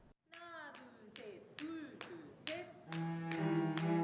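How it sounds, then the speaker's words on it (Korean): A person claps hands repeatedly in sharp, spaced bursts while pitched, ringing tones sound and are adjusted one by one, close and fairly clear, with the tones growing fuller and sustained toward the end. "박수를 치며 하나하나 음을 조절하고 있는 한 사람"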